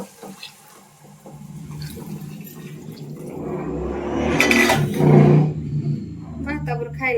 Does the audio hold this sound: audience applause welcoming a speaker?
no